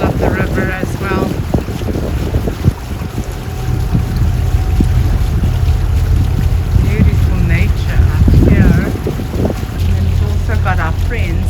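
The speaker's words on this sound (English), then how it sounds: "Some boats rushing up the middle of the river as well" Boats rush up the middle of a river under heavy wind buffeting, with a droning motor and splashing, and voices speaking intermittently.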